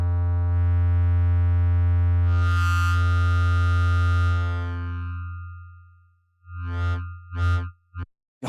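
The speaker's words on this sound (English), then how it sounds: "You almost get a, like an old school dubstep sound." A sustained, heavily distorted synth note buzzes loud and thick with a gritty, old-school dubstep edge, its timbre shifting midway, then fades out before several short, punchy bursts of the same sound stab in near the end.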